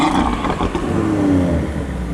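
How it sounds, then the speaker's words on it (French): An Audi RS3 at a supercar meet revs as it rolls in, a loud, close engine note with a rising whine and steady exhaust roar throughout the short burst. "Et on enchaîne avec une RS3 bien méchante"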